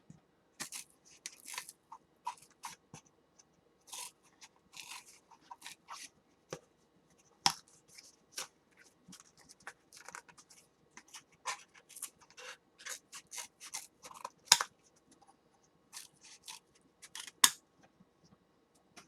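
Scissors snip and click in short, irregular bursts up close, with quiet handling noises in the gaps and no talking.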